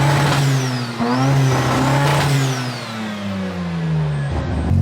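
A Datsun with a 13B rotary engine revs hard up close, its loud buzzing drone rising and falling through repeated throttle blips with no one talking.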